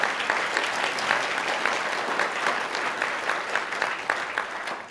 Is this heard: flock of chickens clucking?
no